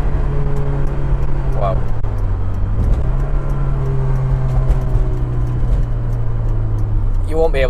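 A Honda S2000 engine is heard from inside the car, a steady loud drone that climbs in pitch as it revs, with a brief rise and dip midway and another burst at the end.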